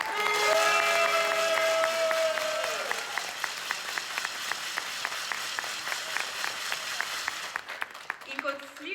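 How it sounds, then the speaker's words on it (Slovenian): An audience at a welcome-home celebration claps, with a voice and tonal sounds at the start before the applause settles into a steady, rhythmic beat of many hands that carries on to the end. "še en aplavz za Lejo."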